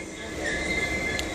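A blue Maritime Class 66 freight locomotive passes at Westbury station, giving a steady, fairly loud rail roar with faint wheel squeal and a brief high squeal near the end, with no talk.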